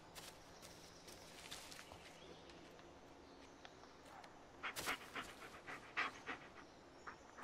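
A dog in the Blair Witch video game pants quickly and close by, joined by soft rustling footsteps, with short louder bursts of movement toward the end.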